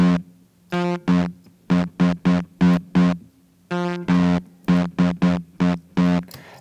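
Electric guitar run through a Tritic Crush bitcrusher plugin with crush but no downsampling, playing a choppy rhythm of short, gritty distorted chord stabs with brief gaps between them, loud and alone.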